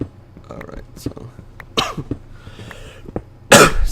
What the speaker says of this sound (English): I have a little bit of a cough today.